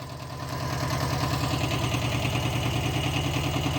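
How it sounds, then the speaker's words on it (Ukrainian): A small tractor engine idles close by with a fast, steady rattling chug that swells slightly at the start and then holds even. "тракторець дерчить"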